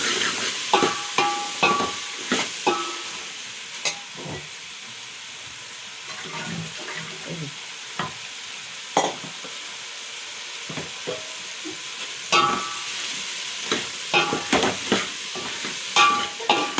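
Spoon scraping and clanking in a cooking pan as tomatoes and a spoonful of turmeric are mixed, irregular knocks over a soft steady sizzle, moderately close with no talking.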